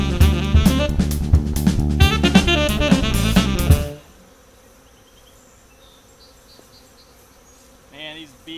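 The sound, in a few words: agitated honey bees buzzing around hive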